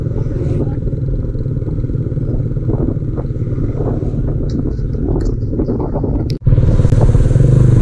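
Two motorcycles loaded with cargo and passengers pass along a road, a loud, close engine drone with clattering, then a sudden cut and a fresh engine roar near the end.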